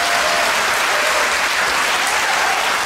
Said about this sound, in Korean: 여러분들 위해서 한번 큰 박수 쳐드릴까요?